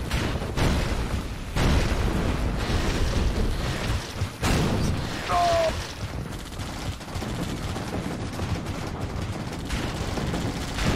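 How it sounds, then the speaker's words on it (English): A chemical missile strike in a strategy video game, a dense run of booming blasts and rattling gunfire-like impacts, loud and continuous with sharp hits repeating throughout. "Chemical missile ready."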